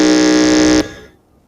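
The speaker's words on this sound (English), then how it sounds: "So I'll need you to test your buzzers." Electronic quiz contest buzzer tested at a school quiz competition, one loud steady tone lasting under a second and then cut off sharply, with no voices over it.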